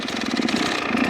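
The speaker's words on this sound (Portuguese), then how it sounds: "Vou ligar a moto" Dirt bike motorcycle engine running at a steady, rough idle after starting, close and fairly loud with a pulsing low throb throughout, no talking.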